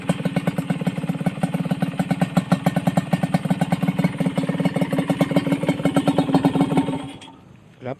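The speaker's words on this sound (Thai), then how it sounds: "ชมเสียงเครื่องประมาณนี้นะครับ" A Honda LS125 motorcycle with an aftermarket exhaust idles close by in a steady, even, throbbing putter. It cuts off abruptly near the end.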